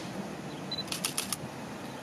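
A Canon camera shutter fires in a quick burst of three or four faint, crisp clicks over a low indoor background hum.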